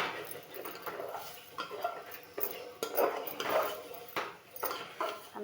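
Metal utensils and dishes clink and clatter in quick, irregular bursts, fairly faint and close by, with no talking.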